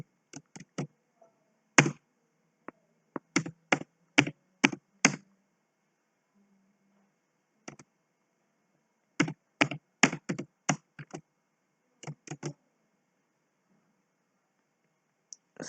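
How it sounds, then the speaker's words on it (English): Code being typed on a computer keyboard, close crisp key clicks in short rapid bursts separated by quiet pauses, over near silence. "So let me just type the code."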